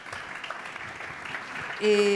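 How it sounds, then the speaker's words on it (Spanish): Applause from a conference audience in Barcelona, a steady patter of clapping at moderate volume, followed at the end by a sudden tonal electronic beep. "Un aplaudiment per ell també."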